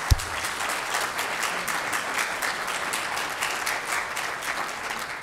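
An audience at a city awards program breaks into applause, a full, even wash of many hands clapping steadily for over five seconds, opening with a sharp thump and continuing without talk.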